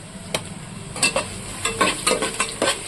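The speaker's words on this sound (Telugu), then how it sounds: "ఒక ఫైవ్ మినిట్స్ మీడియం ఫ్లేమ్లో వేయించుకోవాలండి ఆనియన్ని కూడా" Onions and green chillies fry in a pan over a medium flame, with a soft sizzle beneath a series of close spatula stirring scrapes.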